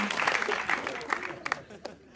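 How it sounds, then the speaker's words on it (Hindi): Applause rises from an audience at a comedy-style talk show appearance with a guest, dense clapping at first that thins toward the end, with a voice talking over part of it. "ताली बजाओ"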